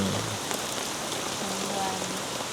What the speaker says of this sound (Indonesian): Jadi kondisi sekarang lagi hujan